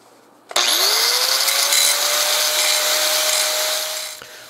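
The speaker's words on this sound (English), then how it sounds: "We're using a grinding wheel on the angle grinder to grind bevel." An angle grinder fitted with a grinding wheel spins up with a rising whine and grinds the bevel of a knife blade, a loud steady harsh roar for about four seconds before tailing off, close by.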